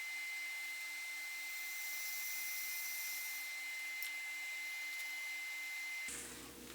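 A skew chisel cuts wood on a lathe while turning a Christmas ornament, a steady high-pitched whirring hiss that holds for about six seconds before cutting off abruptly.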